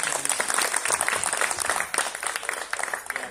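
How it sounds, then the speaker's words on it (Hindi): A crowd at a devotional gathering claps together in a dense, lively burst of applause, close and steady for a few seconds. "एक बार जोरदार तालियां।"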